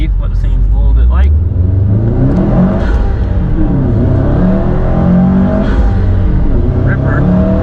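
Subaru RA STI with a Stage 2 tune revving hard on a dyno, a loud, sustained engine roar rising through the revs with a throaty, continuous drone close up.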